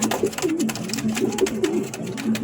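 Male king pigeon cooing to a female, a close, loud run of repeated throaty coos in a steady rhythm.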